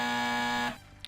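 A loud, steady game show buzzer blares in one sustained tone for well over half a second, then cuts off, leaving faint room noise behind.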